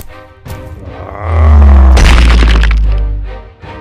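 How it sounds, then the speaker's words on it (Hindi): Animated-story gunfire erupts in a loud, booming burst with sharp cracks and a sustained roaring rumble, preceded by a couple of thumps and fading at the end. "दोनों के बीच में फायरिंग शुरू हो जाती है।"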